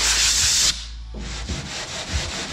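Steady, close hand sanding with abrasive rubbing strokes, a loud continuous stretch that pauses briefly, then resumes in shorter rhythmic passes.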